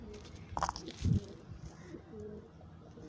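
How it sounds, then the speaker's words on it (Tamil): Pigeons at a home loft beside their feed box coo in two short low bursts close by, with faint chirps and soft background noise in between. "இதுதான் நம்ம புறாலாம்"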